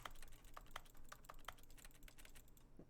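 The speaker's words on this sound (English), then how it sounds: "it makes typing noises even when I'm like tapping the ground" In The Stanley Parable Ultra Deluxe, tapping the ground sets off keyboard-like typing clicks, a quick irregular run of light taps, close and clear with no voice over them.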